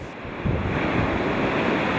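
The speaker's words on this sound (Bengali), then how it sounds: "উপকূলের পাশে রাস্তায় চলা গাড়িতে আছড়ে পড়ছে বিশাল বিশাল ঢেউ" Huge storm waves from Storm Kathleen crash against the Cornwall coast beside a road, a loud steady roar of surf and wind buffeting the microphone, continuous for two seconds with no voices.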